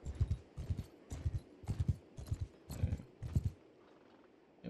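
Hooves of a sumpter horse clip-clopping in Mount & Blade II: Bannerlord, a steady, even rhythm of paired hoofbeats repeating at close range before trailing off near the end.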